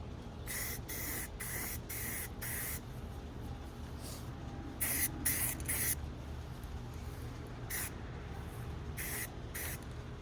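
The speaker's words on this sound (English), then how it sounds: "Now that the bottom side is dry, let's spray the top." A spray paint can hisses in a series of short bursts while painting a Kawasaki KE175 motorcycle part, about a dozen quick sprays with brief pauses between, close and fairly loud.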